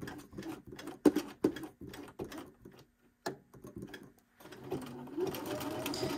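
Sewing machine stitching a zigzag buttonhole in woven fabric, with rapid clattering bursts that start and stop several times, then a steadier faint run of stitching toward the end.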